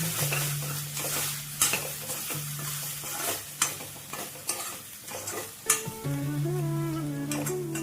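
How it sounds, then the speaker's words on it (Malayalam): A spatula repeatedly scrapes and stirs a spinach stir-fry in a pan, with soft clinks against the metal over a steady background sizzle and a faint hum. "ഒന്നുകൂടെ ഇളക്കി"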